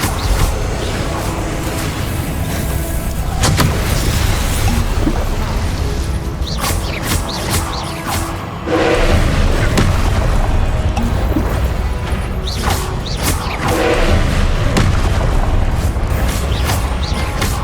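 Spell explosions and blasts from Hogwarts Legacy on PS5, Confringo and Incendio fire spells, a steady loud rumble of booms, crashes and impacts with brief sharp bursts repeating over the whole span, no talk.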